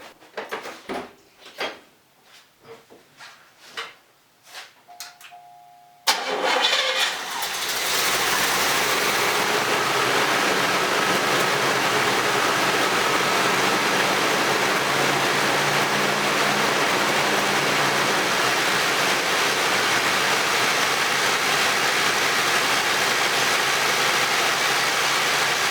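A car engine, just refuelled with 87-octane gas after its fuel pumped clear, catches after a few cranking attempts and settles into a loud, steady, noisy idle that runs on without a break.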